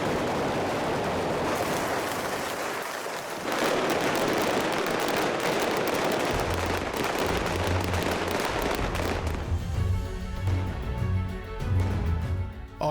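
Pyrotechnic gunfire effects set off in San Giovanni Battista square during a James Bond film shoot, a dense, continuous crackle of rapid shots and bursts that stays loud throughout, with low thuds joining toward the end.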